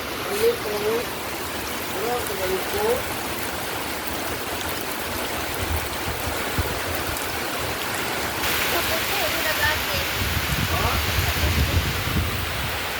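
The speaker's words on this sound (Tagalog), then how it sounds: "Tungod sa kakusog sa hangin o uwan." Heavy wind roars and rain pours steadily during Typhoon Kristine in the Philippines in a dense, continuous wash of noise, with voices faintly audible beneath the storm.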